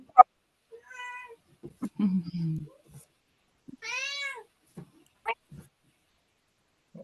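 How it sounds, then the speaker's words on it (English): A cat meows several times, close and fairly clear, in short rising and falling calls with pauses between them, mixed with brief bits of background voice and low murmuring. "Oh, that was a cat."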